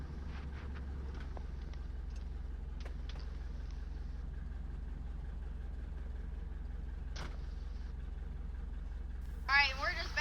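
A seaplane's engine idles on the water, a steady low drone that holds evenly throughout, with a short burst of voice near the end.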